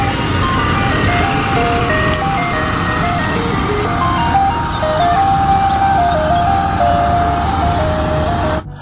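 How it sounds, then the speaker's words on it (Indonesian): Toy ice cream truck playing its electronic jingle, a loud, continuous tinkling melody that runs steadily for several seconds over a constant buzzing hum before cutting off abruptly. "Yang ini ada mobil es krim,"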